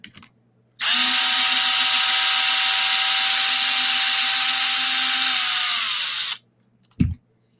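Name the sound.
power tool undoing the rear chassis support bolts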